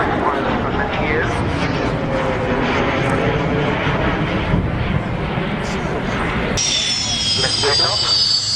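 A Consolidated long-range bomber flies at the Duxford air show, its engine roar loud and sustained throughout. People talk over it.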